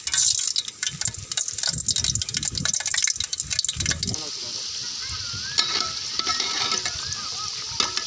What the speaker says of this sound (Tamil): எண்ணெய் நல்லா சூடாகிட்டு இப்போ எடுத்து போட்டுடலாம் நம்ம சமோசாவை